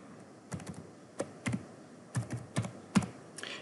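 Someone types an email address and password on a computer keyboard to log in to a university Zoom account, giving a dozen or so crisp keystrokes in quick irregular bursts, close and clear over a quiet room.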